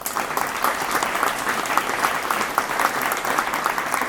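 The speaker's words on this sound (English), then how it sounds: "So give yourselves another round of applause," A conference audience at an anniversary event gives sustained, even applause, dense and fairly loud throughout with no speech over it.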